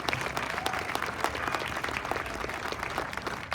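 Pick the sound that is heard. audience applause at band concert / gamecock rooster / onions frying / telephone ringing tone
audience applause at band concert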